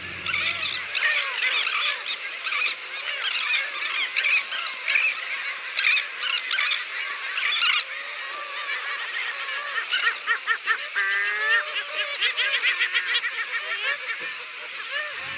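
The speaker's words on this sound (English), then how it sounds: "thousands of Herman's gulls and elegant and royal terns are on wings, and the birds have arrived" Thousands of Heermann's gulls with elegant and royal terns crowd a nesting colony on Isla Rasa in Baja, a dense, unbroken chorus of shrill squealing and cackling calls that rises in sharper bursts throughout.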